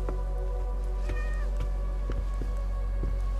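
A cat meows in The Medium video game: a couple of clear, close meows with rising and falling pitch over a constant low background drone.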